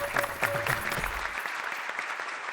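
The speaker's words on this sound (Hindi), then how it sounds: "जरा जोरदार तालियां बजाइए।" An audience claps at a society dance program, brisk applause under a voice that speaks briefly at the start, then the clapping carries on alone at a steady level.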